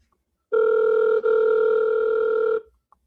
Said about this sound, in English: Can you hear the phone ring?